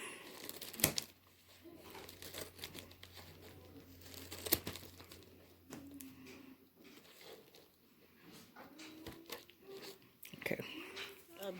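A cardboard delivery package is cut open up close, with scattered crinkling, tearing and scraping noises and sharp clicks coming in irregular bursts, while a person speaks quietly in between.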